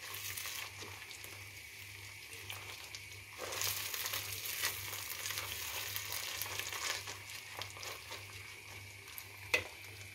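Rice toasting in a pan for pilaf, a steady close sizzle and crackle with a brief louder burst of frying midway, the grains shifting under a constant low hum.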